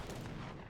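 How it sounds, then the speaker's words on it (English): A heavy cannon fires in an Age of Empires III battle, heard as a brief, dense burst of loud booming gunfire and artillery noise with no voices. "Another heavy cannon shot's going to get onto the Jaegers"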